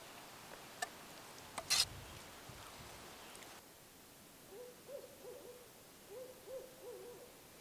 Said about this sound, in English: owls were calling